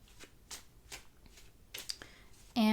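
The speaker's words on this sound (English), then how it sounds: "So I am going to pull 3 cards" Tarot cards are shuffled and drawn in quick, soft riffling bursts, several brisk flicks spaced across the moment, fairly quiet and close, ending in a sudden louder clatter.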